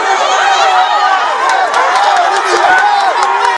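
A large crowd packs a national youth election venue, and a dense wash of many overlapping voices and shouts holds at a steady, loud level throughout.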